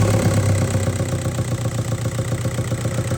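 A Volkswagen 1.9 TDI diesel engine idles steadily right after a timing belt kit replacement, a loud, close, even clattering chug with a regular beat and no voices.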